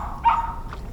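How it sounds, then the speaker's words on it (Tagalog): Dogs bark out at a fishing and cooking spot outdoors, a short burst of one or two barks rising once and fading, with a fainter yelp after, heard at a distance over steady low background noise. "Napakaingay mga idol ng mga aso doon."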